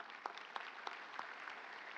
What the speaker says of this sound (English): Ms. Ann Williams, please give her a round of applause.